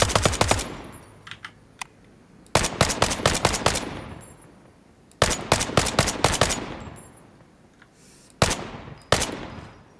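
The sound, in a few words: gunfire at the firing range in video game Incursion Red River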